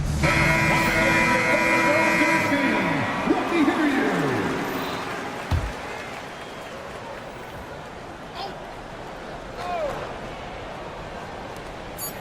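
A loud, sustained electronic end-of-quarter buzzer blares for about two seconds in a basketball video game, with arena crowd noise and commentary carrying on beneath and after it.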